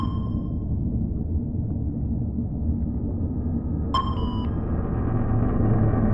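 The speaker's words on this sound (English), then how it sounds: "That's the sound of the submersible structure starting to be squeezed by the pressure." Deep-sea submersible at about 4,000 meters: a steady low rumble of the hull and machinery fills the cabin, broken by a sharp creak or ping midway that rings briefly as the structure is squeezed by pressure.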